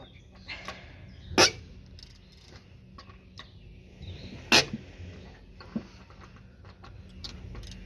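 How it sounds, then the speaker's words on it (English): Two sharp sneezes about three seconds apart in a garage where a car is being worked on, each a sudden loud burst over a quiet background with faint ticks and small knocks. "God, she's sneezing."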